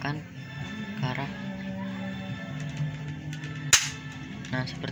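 A single sharp pop of a Glock 26 spring airsoft pistol shot rings out near the end, over a steady low hum and faint background voices.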